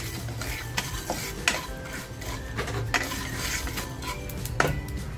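Dry spices and sesame seeds stir-roasted in a pan for Kolhapuri mutton rassa, giving steady scraping and stirring with a light crackle and sharp clinks of the spoon against the metal.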